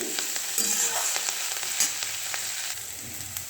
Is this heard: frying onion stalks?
yes